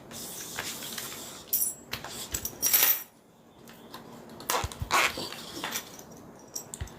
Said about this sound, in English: Let me add these zipper pulls